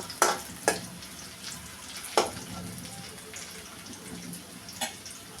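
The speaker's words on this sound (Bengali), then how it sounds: "কড়াইতে তেল দিয়ে পেঁয়াজ ভেজে নিচ্ছি।" Onions frying in oil in a wok for a koi fish curry, giving a steady low sizzle broken by a few sharp utensil clinks and stirring scrapes, with no voices.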